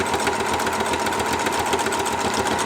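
A sewing machine stitches a fabric placemat with a quarter-inch seam, a steady, fast mechanical whir and tick that runs without pause for the whole stretch, close and alone.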